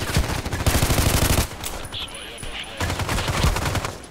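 An OTs-33 Pernach automatic pistol fires in Contract Wars as two rapid full-auto bursts, loud and close, split by a short pause with faint background sounds.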